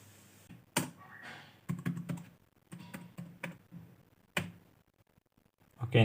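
Close, crisp clicks of a computer keyboard as a name is typed into an online resume form, coming in short uneven bursts of keystrokes separated by brief pauses, with no voices.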